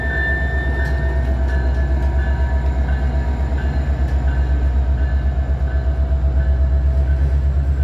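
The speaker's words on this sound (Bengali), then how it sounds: "এই যে ট্রেনটা আবার চলতে শুরু করলো" A train rolls past a closed railroad crossing near Antioch station, heading on after Chicago, a steady loud rumble with rhythmic wheel clatter and a high whining tone throughout.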